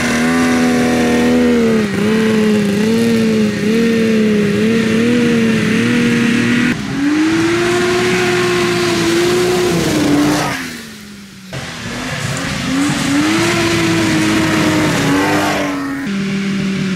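Mini Baja Bug engine revving hard during a first test drive, loud and close, holding high revs with rising and falling pitch, cutting out briefly around the middle, then climbing back up with no talk over it.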